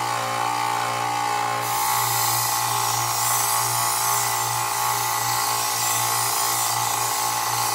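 A belt grinder grinds a bevel onto a Bowie knife or meat cleaver blade, a steady loud abrasive whine with a constant motor drone after a brief quieter start, no talking over it.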